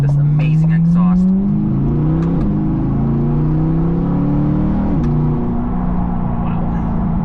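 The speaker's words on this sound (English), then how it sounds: "Just the sound that this exhaust makes." A deep, throaty aftermarket exhaust on a C8 Corvette rumbles and rises through a few revs, its low growl swelling and dropping close by, with a voice briefly audible early on.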